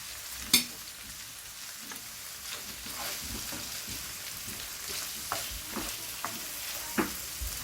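Chicken liver and onion fry in a pan, a steady close sizzle broken by repeated stirring scrapes and taps, one sharper knock early on.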